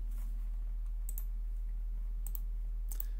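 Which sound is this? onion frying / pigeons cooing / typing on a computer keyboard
typing on a computer keyboard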